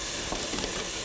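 Curry paste and spices sizzle in a pot while being stirred, a dense continuous hiss with soft scraping accents, close and steady.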